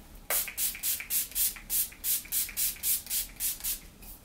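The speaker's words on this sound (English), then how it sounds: "I'm going to set my face with the Makeup Revolution Matte Fix Oil Control" Makeup Revolution Matte Fix Oil Control fixing spray misted onto a face in about a dozen quick, evenly spaced hissing bursts, each short and crisp, close and alone with no talk.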